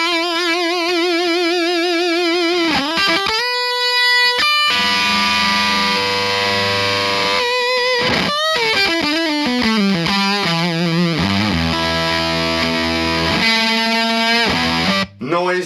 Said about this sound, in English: you hear a distortion and overdrive from the amp, overdrive from the pedal, and a fuzz unit as well